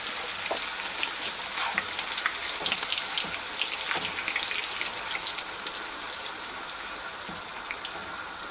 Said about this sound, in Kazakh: Міне қазір майға қуырып аламыз.